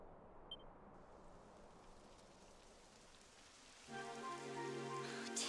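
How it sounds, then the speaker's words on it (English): Rain starting to fall in Dragon Quest XI, a soft steady hiss of rainfall with faint droplet patter that becomes denser and louder, while a sustained musical tone rises in partway through. "It would have to go and start raining, wouldn't it?"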